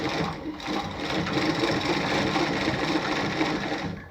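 A Singer 306K sewing machine runs steadily, its continuous mechanical whir and rapid needle clatter holding at an even loudness for about four seconds before easing off.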